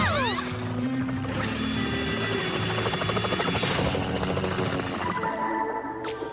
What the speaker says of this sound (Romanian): Haideți, ne așteaptă elicopterul UP.